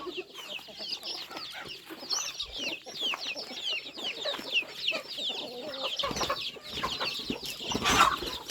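Chickens and ducks are fed at dusk on a rural farmyard, a busy close chorus of overlapping clucks, chirps and squawks with scattered scratching and bumps throughout.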